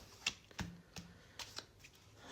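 Tarot cards are shuffled and drawn with a handful of quick, crisp flicks and snaps, faint and close, each tap separate from the next.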